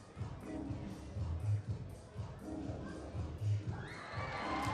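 A gymnastics arena crowd at the Varna World Challenge Cup cheers and shouts after a men's routine, a steady roar of many voices in a large hall with periodic swells, the noise rising toward the end.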